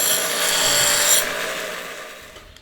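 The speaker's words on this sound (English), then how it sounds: "using the grinding wheel to bring it down to spec" A grinding wheel bites into a metal piece being trimmed to size for the front end of a Series 1 Land Rover under restoration, giving a loud, harsh abrasive rasp for about a second that then tapers into a fading wind-down.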